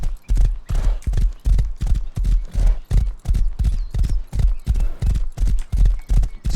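Thoroughbred horse galloping along a snowy road in Rust, a steady loud rhythm of heavy hoofbeats repeating about twice per second throughout, close and unbroken.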